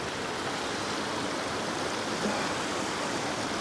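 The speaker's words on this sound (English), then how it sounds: "if I walk in the creek here, let's just walk up a little bit more" Steady broadband rush of a flowing creek, splashing and churning continuously at close range while someone wades upstream among tall cedar trees, with no talking.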